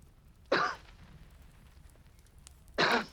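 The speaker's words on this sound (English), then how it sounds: "he gave what he thought was a discreet cough." Two short, soft coughs, one early and one near the end, separated by quiet; close and restrained, with no speech.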